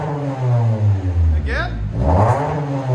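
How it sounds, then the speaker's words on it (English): A 2019 Toyota Camry 2.5L four-cylinder with dual exhaust, Vibrant bottle resonators and resonator delete revs loudly and close, the engine note rising and falling through a blip, while someone speaks over it. "2019 Toyota Camry with vibrance and resonator delete."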